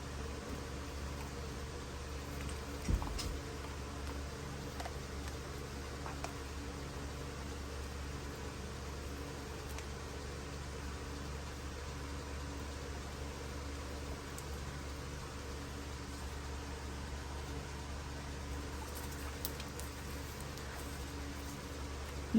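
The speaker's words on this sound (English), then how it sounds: "You may hear some noise in the background, which is the fan blowing." A fan blows steadily in the background of a room where an off-grid emergency stove is being built, a constant low broadband hum and hiss running throughout with one brief knock near the start.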